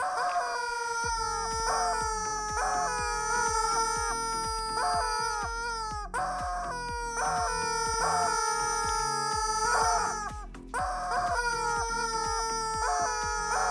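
A rooster crows and chickens cluck over steady music-like tones, repeating in loud loops that cover the whole stretch with no talking.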